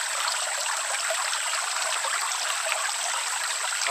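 Steady, continuous rush of flowing stream water at a water source along the Appalachian Trail, close and even throughout with no talking.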